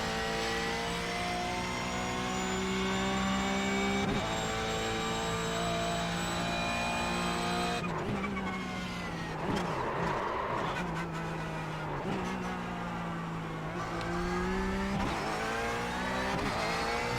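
A racing car's engine in a sim racing video game played on a budget steering wheel drones loudly and continuously. Gear shifts break up the pitch, and a rough scrabbling patch of tire noise comes midway, with no talking.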